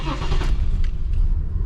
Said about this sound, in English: Fires right up, runs like a dream.